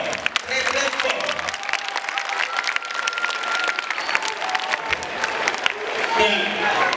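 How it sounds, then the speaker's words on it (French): A large audience at a school-year opening ceremony at the Monseigneur Moké school complex in Kinshasa applauds loudly and steadily for several seconds, a dense, sustained wash of clapping with a voice briefly audible near the end. "On applaudit très fort, très très fort."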